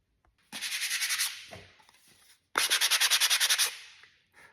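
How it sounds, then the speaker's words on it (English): Two bursts of rapid, rhythmic back-and-forth sandpaper strokes rubbing over a freshly painted craft piece, close and fairly loud, separated by a brief quieter pause with no talking. "I'm going to take some sandpaper and just go over this real quick"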